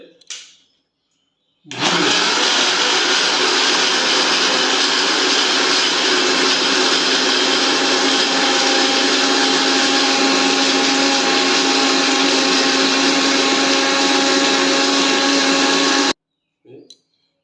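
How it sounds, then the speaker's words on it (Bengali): A mixer grinder blending lassi whirs loudly and steadily for about fourteen seconds, starting and stopping abruptly, with a brief murmur of voice before and after. "মিক্সারে লাগিয়ে দিয়েছি"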